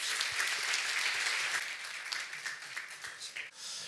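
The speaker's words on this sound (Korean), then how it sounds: "박수 한번 크게 쳐주십시오." Church revival meeting audience applauding loudly and steadily, a dense wash of clapping that holds strong before thinning and tapering off near the end.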